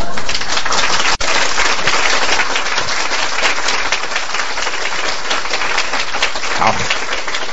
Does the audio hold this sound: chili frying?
no